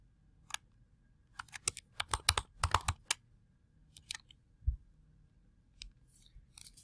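A password is typed on a computer keyboard in short bursts of quiet, close key clicks with brief pauses between groups, in an otherwise silent room.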